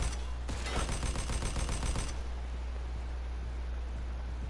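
Burst of rapid gunfire in the Mafia 2 video game, a dense volley of shots packed into about two seconds, then fading into steady hiss.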